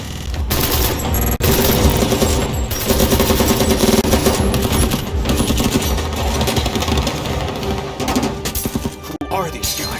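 A gunfire exchange, loud sustained automatic bursts rattling almost without pause, close and dense, with shouting voices mixed in.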